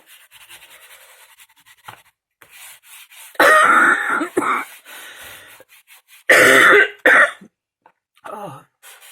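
Harsh, loud coughing fits in two strong bursts, with quieter throat noises and breathing between them.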